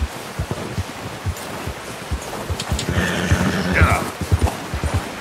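A horse's hooves clip-clop at a steady walking pace in Red Dead Redemption 2, with sharp, regular thuds over an outdoor wind-and-surf-like wash. Someone speaks briefly partway through.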